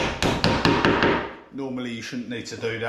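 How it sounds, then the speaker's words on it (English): A hammer taps pegs into a jig for joining kitchen worktops, with about seven sharp, close, evenly spaced blows in quick succession, after which someone talks. "so I have to use a hammer to put them in"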